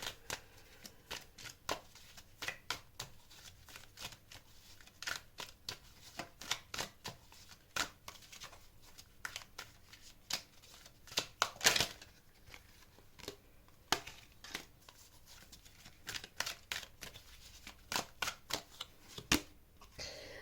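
Tarot cards are shuffled for a reading in soft, close riffling with irregular crisp snaps and slaps, continuing steadily throughout at low level with no talking.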